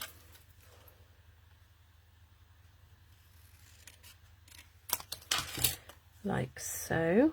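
Scissors snip through card stock for a Christmas card in a few quick, close cuts near the end, after a quiet stretch with a soft voice speaking briefly.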